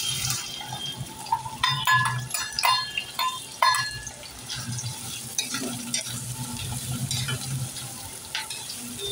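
Onions fry in hot oil for a tempering with a steady sizzle and crackle, broken by several sharp metallic clinks and scrapes of a spoon against the pan.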